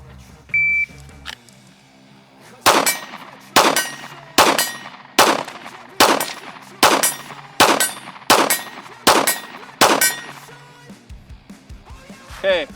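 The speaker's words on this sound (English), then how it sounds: "that was 9 out of 10 shots, no sights" Ten pistol shots fired without sights at a reduced torso target, loud sharp cracks in a steady rhythm about one per second, with brief talk and a timer beep before the string.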